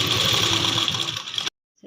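A sewing machine stitches blouse pieces together with piping, running in a fast, steady whir for about a second and a half, then stopping abruptly into silence before a faint sound resumes.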